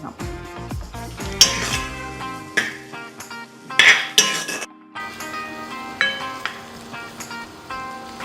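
Carrot pieces fry in a pan with garlic, ginger and bay leaves, a soft sizzle broken by repeated clinks and scrapes of a metal utensil stirring against the pan, close and clear with no talking.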